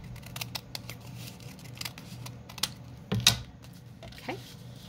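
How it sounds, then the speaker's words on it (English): Scissors trim the edge of a small paper notepad for a junk journal, making a series of soft, crisp snips with a louder cut near the end, close up and with no talking. "I'm also going to trim this edge right here"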